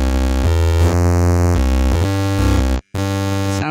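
A 16-bit style synth with a second layer pitched down to harmonize plays a continuous, bright, buzzy melodic run of shifting notes, with one brief cut to silence near the end.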